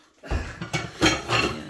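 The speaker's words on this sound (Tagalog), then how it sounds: "dyan na nilalagay yung mga mangkok at mga plato" Bowls and plates are set down and stacked while being put away in a kitchen, with a few quick close clinks and knocks of crockery over under two seconds.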